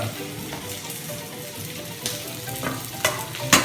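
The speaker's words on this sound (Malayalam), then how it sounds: "ബ്രഷ് ചെയ്തതിന് ശേഷം ജസ്റ്റ് ഒന്ന് ഫ്രൈ ചെയ്തെടുക്കാം." Small crabs sizzle and crackle as they fry in a hot pan for a crab majboos, with a steady hiss broken by a few sharper pops and stirring scrapes near the end. The sound is close and continuous, and no one speaks.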